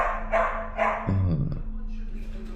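Dogs bark several times in quick succession, fairly close, with some lower growly barks and a voice briefly heard.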